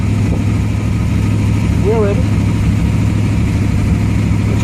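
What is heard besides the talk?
engine starting and idling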